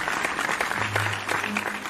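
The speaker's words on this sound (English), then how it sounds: "let's give a round of applause for Caillou" A school class bursts into brief applause for Caillou, a short, close patter of many hands clapping, with a voice cutting in over the claps.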